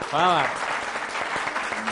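Brief audience clapping at a Pashto gathering with singing, a short burst of many hands under a rising sung or spoken voice, close and moderately loud for about two seconds.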